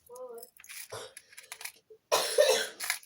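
A burst of harsh coughing near the end, preceded by scattered small clicks and brief vocal sounds, fairly close.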